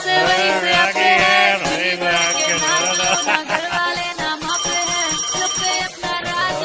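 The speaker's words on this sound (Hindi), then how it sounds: "मेरे पापा का फोन आ गया।" A mobile phone ringtone plays for an incoming call from a father, a loud, melodic, looping tune with repeating bright high tones, close and dominant throughout.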